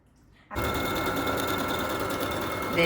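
A sewing machine starts up abruptly and runs steadily at a fast, even stitching rate, close and loud, with no talk over it.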